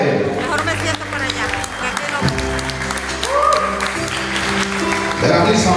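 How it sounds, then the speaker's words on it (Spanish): Guests at a quinceañera-style presentation applaud a chambelán's entrance, with clapping under loud music and a voice speaking over it. "Fuerte el aplauso para él"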